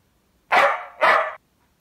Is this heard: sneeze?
no